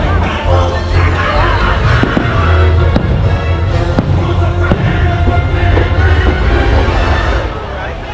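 A fireworks show at Disneyland Park bursts continuously in loud crackling booms over a dense crowd murmur, with sharp bangs scattered throughout and voices mixed into the din.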